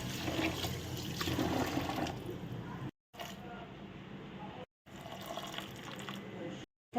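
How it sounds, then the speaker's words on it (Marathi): Sago pearls are rinsed in water in a kitchen, a steady rushing and swishing of water with brief cuts of silence between takes, and a voice speaking quietly under the washing. "मी साबुदाणा धुवून 2-3 पाण्याने."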